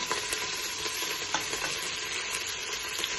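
Mint, coriander, green chillies and onions being stirred into prawn biryani masala in a pan, a steady close sizzle with scraping spoon strokes throughout.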